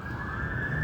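A siren sounds alone for under a second, a steady held wail at moderate loudness with no voices.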